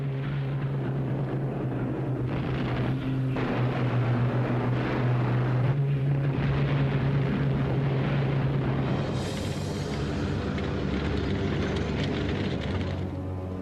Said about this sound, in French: Les avions et l'artillerie alliés vont les matraquer sans relâche.